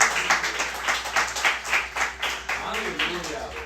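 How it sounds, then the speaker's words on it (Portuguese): Church congregation applauding during a service, a dense, rhythmic burst of clapping in steady pulses, loud and full, lasting a few seconds. "Aplauda o Senhor."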